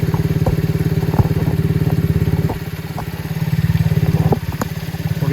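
Warmed-up 125cc Venom ATV engine idling close by, a fast steady putter with light mechanical clatter and a couple of small dips in level, no talk.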